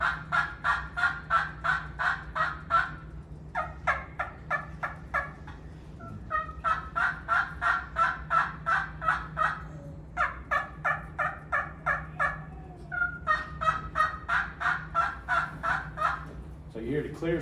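Hunting turkey calls produced with the throat alone, a voice imitating a wild turkey in repeated clear, rhythmic bursts of yelps and gobble-like notes, loud and close with short pauses between series.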